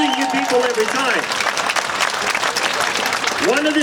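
Outdoor freedom rally crowd applauding, steady clapping and cheering throughout, with voices and whistle-like tones mixed in under the din.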